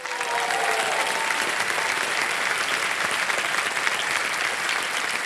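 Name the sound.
studio audience applause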